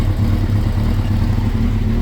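A 1990s sport bike engine revs steadily and loudly close by, a sustained buzzing drone with mechanical clatter that holds level throughout, heard alone.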